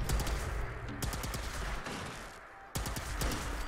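Weapon fire from a B3325 plasma gun in the video game Fallout 76 comes as rapid bursts of shots. The volleys are separated by brief pauses and stay close and loud, with no talking.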